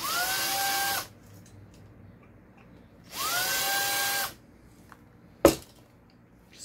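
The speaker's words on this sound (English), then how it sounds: "I don't even know which what kind of drill I'm using." Two bursts of a high-pitched power drill whining, each about a second long and nearby, separated by quiet, followed by a sharp knock; the drill is working on a Hot Wheels diecast toy car.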